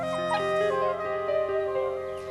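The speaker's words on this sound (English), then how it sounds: "It sounded like the whining of little dogs." Jackal pups found at the roots of an old storm-felled tree in Hungary, whining and whimpering like little dogs: a continuous run of high, wavering cries and yips, close and fairly loud, with no voices over them.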